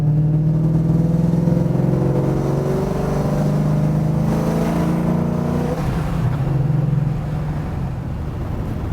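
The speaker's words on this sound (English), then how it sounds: "Sound of the Vortec under the hood just adds to it." A car with a Vortec engine drives steadily, its loud, close motor droning in an even tone with a slight shift partway through and no talking.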